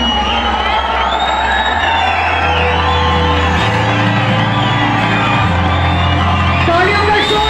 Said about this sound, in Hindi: तालियों का शोर नहीं रुकना चाहिए मनाली।